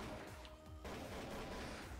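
Rapid bursts of gunfire crackle in a Trouble in Terrorist Town round of a first-person shooter game, dense and continuous but faint and muffled, with no talking.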